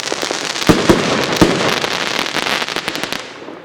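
Fireworks crackle and bang at a Dutch fireworks demo, a dense loud volley of sharp pops and crackles with several strong reports in the first second and a half.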